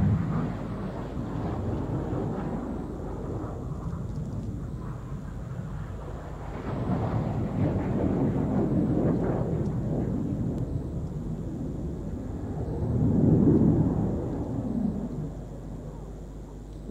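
Red Arrows jets flying their display at Farnborough Airshow 2014 give a deep, broad roar that swells and fades over a long stretch, distant then nearer, with wind buffeting the outdoor microphone.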